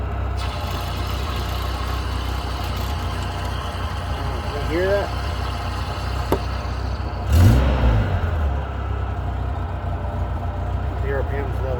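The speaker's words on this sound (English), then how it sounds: "I've been having this problem ever since I put this other transmission in. And it's making this noise." Low engine rumble from a car with a replacement transmission, the clutch released so the drivetrain grinds and hums steadily under a voice, with a brief louder surge midway.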